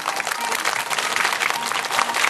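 An audience at a Chiba Marine Stage mascot show claps to vote for the Marines team, a short, loud, dense burst of applause from a crowd filling the whole moment.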